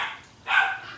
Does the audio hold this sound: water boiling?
no